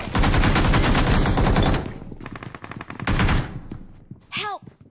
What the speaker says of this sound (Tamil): கன் வச்சு அடிச்சிட்டேன்.